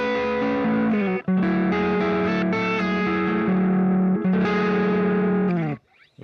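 Electric guitar through a Positive Grid Spark 2 amp on an ambient tone with effects and distortion, played on the bridge pickup. Sustained, full chords ring continuously for about six seconds with a short break, then fade out, no talking.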